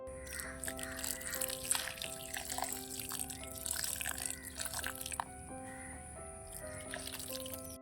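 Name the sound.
water poured into a potted plant, draining through the pot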